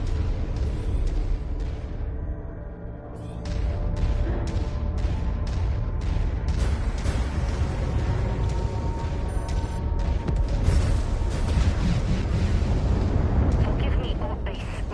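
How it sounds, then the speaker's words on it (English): Heavy, continuous barrage of booming airstrike blasts and rumbling explosions in MechWarrior 5: Mercenaries, loud and dense with repeated sharp impacts over sustained low rumble. "I'll take an extra airstrike"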